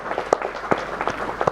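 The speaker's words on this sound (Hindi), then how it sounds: "बहुत बढ़िया, जोरदार तालियां।" An audience at a talk session gives brief, scattered applause, a few separate hand claps standing out close by over a thin spread of clapping.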